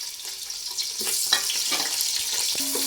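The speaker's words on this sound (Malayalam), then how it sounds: "ഇനി നമുക്ക് ഇതിലിട്ട് സവാള ഇട്ട് കൊടുക്കാം." Onions fry in a pan for prawn biryani, a steady close sizzle with faint stirring clinks over a few seconds and no voices.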